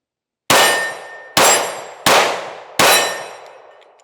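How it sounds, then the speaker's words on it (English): Four sharp, loud shots from a Smith & Wesson Shield Plus Carry Comp pistol fired outdoors at a target, spaced under a second apart, each cracking hard and ringing out in a decaying echo, with no talk. "I'm going to keep shooting that target over there, although there's a tree there, just so you guys can see the muzzle and how it reacts."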